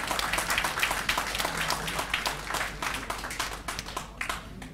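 Audience applause greeting a poet at an annual Urdu mushaira in Doha, Qatar, a dense steady patter of many hands clapping throughout, moderately loud with a faint murmur beneath.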